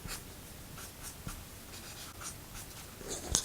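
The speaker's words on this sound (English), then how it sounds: "get some nice sweeping marks with this chisel" A Promarker chisel-tip marker drawn across paper in sweeping strokes to build depth in a flower drawing, making soft, close, repeated scratchy swishes at an even rhythm.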